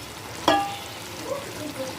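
Chicken, mango and capsicum curry is stirred in a pan with a clear spoon scrape near the start, followed by a soft ongoing sizzle and light clinks.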